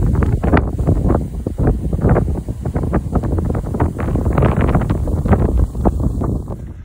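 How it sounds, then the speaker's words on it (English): Strong gusty wind buffets the microphone in loud, rapid irregular bursts, a constant roaring rumble with no voices. "It's extremely windy at the moment."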